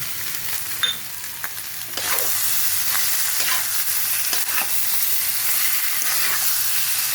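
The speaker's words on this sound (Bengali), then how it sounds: "এই ডিম ভাজাটা এর মধ্যে দিয়ে দিলাম, কিন্তু দিয়ে ভালো করে কষিয়ে নেব" Pieces of fried egg are stirred into a soya chunk curry in a hot pan. A steady, close sizzle runs throughout, broken by scraping stirs, and it grows louder and fuller after a couple of seconds.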